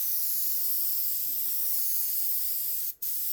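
Steady, close airbrush hiss spraying paint onto a t-shirt, continuous and even, with a brief break near the end as the trigger is released before the spray resumes.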